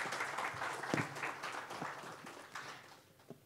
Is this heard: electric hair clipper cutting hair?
no